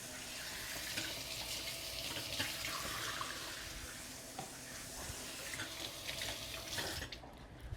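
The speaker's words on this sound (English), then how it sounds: "Rinse off this cabbage." A kitchen tap runs steadily into a sink while cabbage is rinsed under it, a continuous splashing hiss with small shifts as the leaves are moved, close and fairly quiet.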